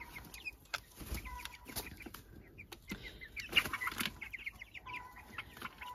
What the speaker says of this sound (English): this is one of the mishmash roosters coming for a look